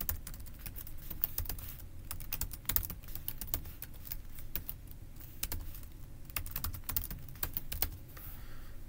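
Rapid typing on a computer keyboard, with a quick irregular patter of key clicks heard close and fairly soft throughout, without speech.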